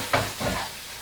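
Aubergine, basil and pork chili paste get a brief stir in a hot wok, a soft hissing sizzle swelling with two quick scraping strokes.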